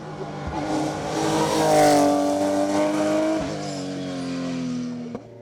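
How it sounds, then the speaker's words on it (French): A Porsche 991 GT3 Cup race car climbing a mountain hill-climb course, its engine revving hard and rising through the gears, loud and close, then dropping off with a quick shift blip near the end. "Jean-Marc Gandolfo, termine 4e du GTTS 4 et 8e du classement général de l'épreuve sur sa Porsche 991 GT3 Cup."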